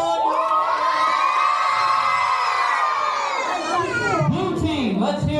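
Children at a scuba-themed Vacation Bible School cheer loudly for the green team, a sustained burst of excited shouting and whooping from a large group close by, fading into scattered voices at the end.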